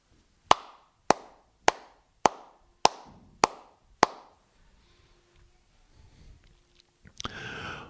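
Hands clap a pentatonic march rhythm in a classroom music lesson, seven crisp, evenly spaced claps close up, then near silence and a short burst of rustling.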